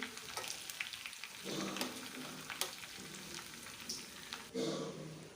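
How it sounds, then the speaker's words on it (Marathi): Curry leaves and dried red chillies fry in hot oil for a dal tadka, making a soft, steady sizzle with occasional stirring scrapes. It sounds fairly quiet and close, with no talking. "9-10 कढीपत्त्याची पानं आणि 4-5 लाल वाळलेली मिरची टाकायची आणि मिरची चांगली आपल्याला लाल होईपर्यंत तळून घ्यायची"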